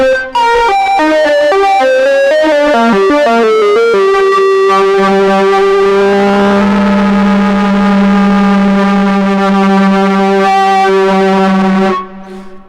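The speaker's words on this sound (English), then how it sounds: "Pulling some distortion. Almost starts sounding like a guitar with some feedback." A heavily distorted Sequential Pro 3 synthesizer plays a fast run of notes, then holds a buzzing, sustained chord with guitar-like feedback before cutting off.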